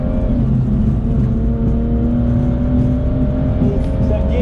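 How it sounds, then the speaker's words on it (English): BMW M240i on a race track, loud continuous engine drone with steady tonal whine throughout, a slight dip near the middle where a gear change may occur, heard from inside the car. "Oh, is that gear shift?"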